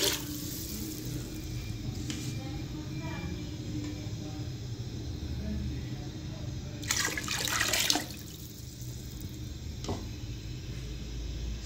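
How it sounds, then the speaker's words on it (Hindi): Water poured from a vessel into a cooking pot of rice for Chinese pulao, a steady moderate splashing that swells to a brief louder gush near the end before settling. "4 प्याली चावलों की थी तो हम इसके अंदर 7 प्याली पानी ऐड करेंगे।"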